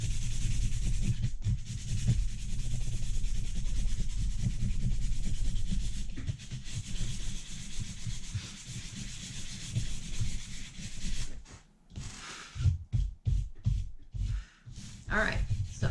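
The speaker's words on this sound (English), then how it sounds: "What I want to do is I want to sand any of the high bumps off." Sanding high bumps off a garden yard statue during restoration, a continuous close rasping rub that later breaks into short separate strokes, with some breathing heard alongside.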